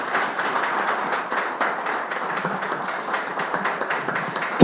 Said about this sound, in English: I would like you all to please clap for yourselves for being so kind and patient with me today.